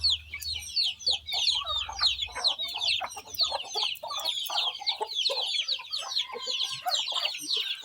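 Hens cluck steadily while newly hatched chicks cheep in a continuous, high-pitched chorus, all close by, busy and overlapping throughout, with no talking.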